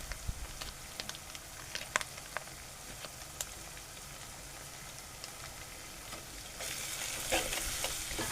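Schezwan rice is stirred and fried in a hot pan, with a steady crackling sizzle and scattered clicks from the spatula scraping the metal. The frying hiss swells louder near the end, and no one speaks.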